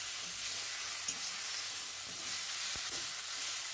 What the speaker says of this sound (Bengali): এটা যতক্ষণ না মজে আসবে ততক্ষণ আমি এটাকে নাড়াচাড়া করে নামাবো।